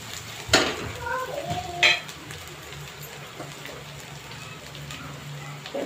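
Coriander powder being sautéed in a pan, a soft steady sizzle with a couple of sharp utensil scrapes and clinks against the pan near the start, then quieter frying hiss.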